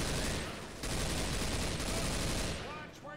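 Heavy gunfire in a co-op shooter game, sustained dense bursts with a brief break, fading near the end under a voice shouting.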